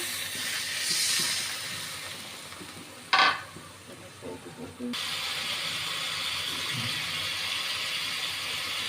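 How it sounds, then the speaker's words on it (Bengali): Water hits hot turmeric and chili powder spices in a pan: a sharp sizzling burst, then a steady, fairly loud hiss of frying that carries on to the end. "মশলা কষানোর জন্য একটু জল দিয়ে দেব।"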